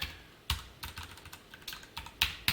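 SQL being typed on a computer keyboard: crisp, close key clacks in irregular bursts with short pauses between them, fairly quiet, with no talking.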